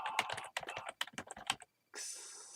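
Rapid typing on a computer keyboard, with quick clustered keystrokes for about a second and a half, then a pause, close and fairly quiet.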